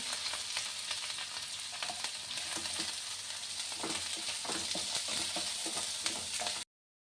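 Sliced onions and whole mint leaves frying in a pan for khara bath, a loud, continuous close sizzle with stirring scrapes throughout, cutting off abruptly at the end.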